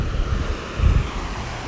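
Ocean surf and wind on a Rockaways beach in New York City, a steady low rumble of breaking waves with gusty wind buffeting the microphone and one swell around the middle, no voices.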